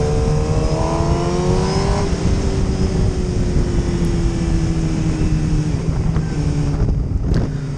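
A simple, old-style motorcycle with a plain engine runs steadily and loudly up close, its engine tone dropping after a couple of seconds, with heavy wind buffeting throughout while riding.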